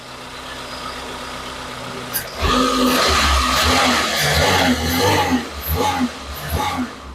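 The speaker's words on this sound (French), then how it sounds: "En attendant, le moteur il tourne." A car's 2.6 engine with a makeshift gasket starts up after a quiet moment and keeps running loudly with a rough, uneven chug close by.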